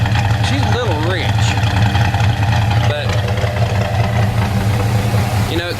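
A car engine with a Holley carburetor idles steadily and loudly, running a little rich while its idle mixture is being tuned, with someone talking over the constant low rumble.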